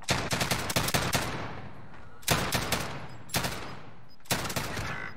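Gunfire in Warzone cracks out in several separated bursts of sharp rapid shots, each trailing off into echo, heard fairly faint and distant.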